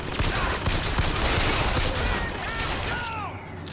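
Dense gunfire bursts from the video game Bioshock Infinite, rapid overlapping shots that form a loud, continuous barrage for a few seconds before tapering off.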